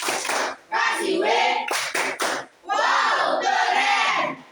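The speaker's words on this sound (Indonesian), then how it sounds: "Tepuk wow" A standing class performs a rhythmic clapping ice-breaker, loud group chanting broken by a short run of sharp, close claps in unison midway, followed by more shouted chanting.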